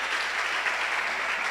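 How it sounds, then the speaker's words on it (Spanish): A church congregation applauds during a Spanish-language sermon, a dense and steady roar of clapping that holds evenly from start to finish without any voices over it. "démosle un aplauso grande al Rey de Reyes"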